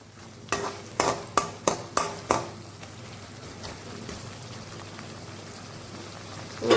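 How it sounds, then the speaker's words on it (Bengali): Ginger garlic paste sautéed in a pan gives a soft, steady sizzle, opened by a quick run of six or seven sharp stirring clacks, then a quiet frying hiss alone. "আদা রসুন বাটাটা দিয়ে দিলাম, এবারে দিয়ে এটা একটু কষবো যাতে আদা রসুনের কাঁচা গন্ধটা চলে যায়।"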